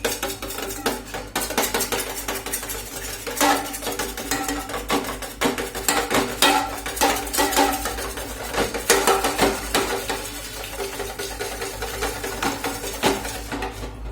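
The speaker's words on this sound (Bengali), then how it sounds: "দিয়ে এটা ভালো করে ফাটিয়ে নেব ডিম দুটো" Two eggs with salt beaten in a bowl for egg chicken chowmein, a fast steady clatter of utensil against bowl running continuously and fairly loud, with no talking.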